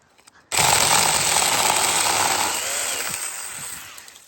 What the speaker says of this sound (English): That little chainsaw thing done pretty good